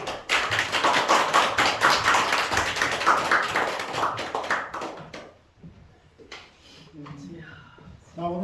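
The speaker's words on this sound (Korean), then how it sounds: "나오실 때 박수로 받습니다" A church congregation at a Sunday service applauds to welcome a visiting missionary preacher. The dense clapping lasts about five seconds, then fades, and a person begins speaking alone.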